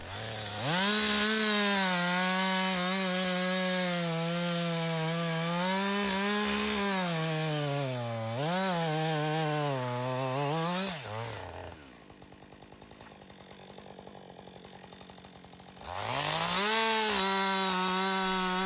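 Husqvarna chainsaw cutting wood while felling trees in a logging forest, a loud sustained whine that rises and falls with throttle, drops to a quieter idle, then revs up hard again.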